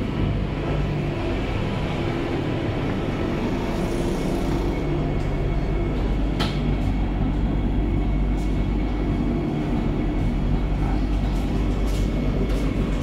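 Passenger train running nonstop from Chennai toward Renigunta, a steady loud rumble of wheels and carriages throughout with no talking, heard from on board.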